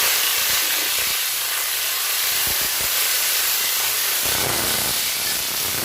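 Vegetables hit hot tempering oil seasoned with green chilli and ginger paste, giving a loud, continuous hissing sizzle that swells near the end, with no talking.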